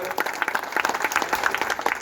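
Crowd applause at a political rally in Vita, a dense, continuous burst of many people clapping together, fairly loud and close, with no talk over it.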